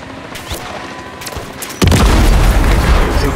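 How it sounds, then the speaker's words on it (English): Loud explosion in the Call of Duty Modern Warfare III video game, a sudden heavy blast at about two seconds followed by sustained rumbling gunfire and combat noise. "Charge set. Hit it!"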